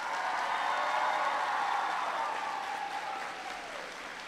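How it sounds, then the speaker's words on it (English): Students in a school gym or hall clap for their teachers at a presidential visit on technology in schools in Mooresville, North Carolina, a distant broad wash of applause that slowly thins and quiets. "Students, clap for your teachers."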